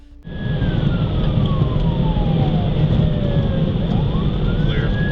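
A loud, close police car siren wails continuously during a high-speed chase, its pitch sweeping down and back up, over a deep rumbling engine with no talking.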